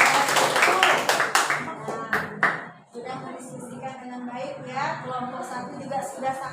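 Classroom applause for a student group, a brief burst of hand clapping at the start that fades out, followed by a teacher speaking.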